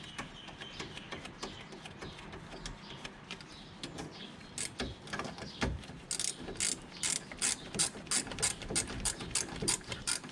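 A ratchet wrench tightens a bolt on the rear brake of a Honda Stream RSZ during a pad change, giving a long run of close, dry clicking bursts that speed up into rapid, evenly spaced ratcheting toward the end, with no talking.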